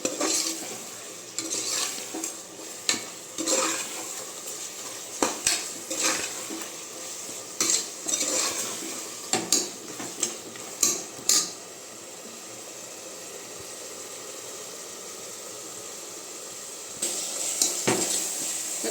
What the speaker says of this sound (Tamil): இந்த மசாலாலாம் ஒரு ரெண்டு நிமிஷம் நல்லா வெந்து வரட்டும்